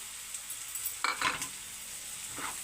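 Egg fry stirring in a pan after yellow sona is added, a low steady sizzle with a few scraping stirs in the middle and a faint one near the end.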